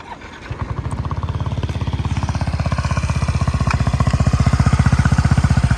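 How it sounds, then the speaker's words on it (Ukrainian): A Yamaha NMax 125 ABS scooter with 38,000 km runs close by, its exhaust giving a steady, bassy, rhythmic thrum that grows slightly louder and faster, alone without talk. "приємний такий басистий звук в цього вихлопа."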